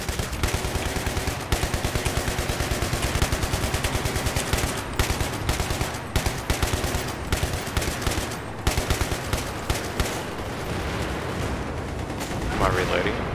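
Rapid bursts of automatic gunfire from Battlefield 3 fill the scene, loud and dense with steady rapid-fire stretches and sharper single shots, while a voice talks over the shooting.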